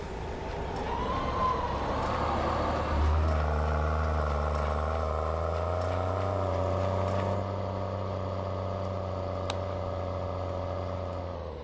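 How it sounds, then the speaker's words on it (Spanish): A tractor engine in Farming Simulator 19 revs up, its rough drone climbing in pitch after a few seconds and then holding a steady, loud hum with a strong low rumble. "Aceleramos el tractor."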